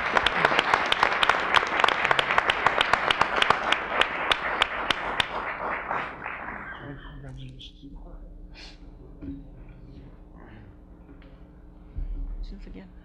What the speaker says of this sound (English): Let's give a big round of applause again to the new commissioner and his family.